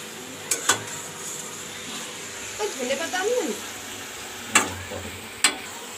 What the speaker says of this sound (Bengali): এই দেখো মশলাটা কষা হচ্ছে মাংসের সঙ্গে।